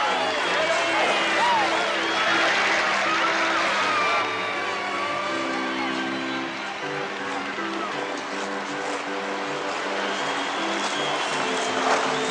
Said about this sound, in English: They're getting a good round of applause from their own booster club